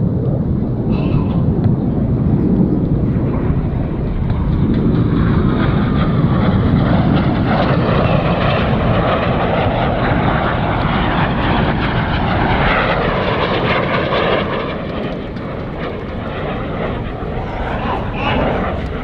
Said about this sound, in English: As the Vixen, each aircraft will perform a 360-degree aileron roll.